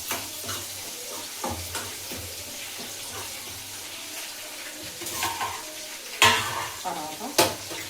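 Curry leaves sizzle and crackle as they fry in a hot pan, a steady hiss broken by sharp spatters and scraping stirs, with occasional clinks of cookware.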